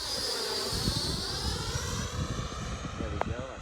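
A Freewing MiG-29 RC model jet comes in to land, its ducted fan whining steadily and fairly faint over the continuous sound of wind.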